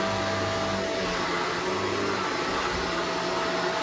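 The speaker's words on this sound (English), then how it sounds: "It's pulling the whole vacuum forward. That's how powerful the bristles are." A Shark Rotator upright vacuum cleaner with a self-cleaning brush roll runs on carpet, its steady, loud motor whine and airflow roar continuing evenly throughout, with no talking.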